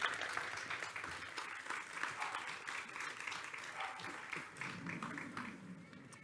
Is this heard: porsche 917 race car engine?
no